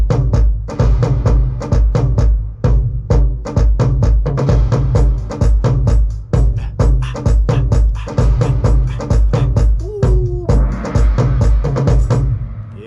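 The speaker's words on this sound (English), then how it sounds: "that's the intro of the percussions going on, all the drums, all the movement." A produced song's percussion intro: loud, punchy drum hits and layered percussion in a steady driving rhythm with deep kicks, plus a short synth swell near the end, with no talking.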